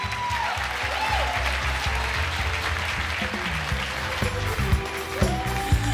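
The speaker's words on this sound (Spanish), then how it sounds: "Vamos a brindar un fuerte aplauso a Greg." A live crowd at a televised birthday show in Spanish gives a sustained, fairly loud round of applause that fills the whole stretch, with cheers and whistles rising over it and a low music bed underneath.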